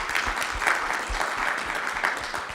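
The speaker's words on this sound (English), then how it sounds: "Big round of applause." Sustained audience applause fills the room at a Mexico–California future event, dense steady clapping for the whole stretch with no talk over it.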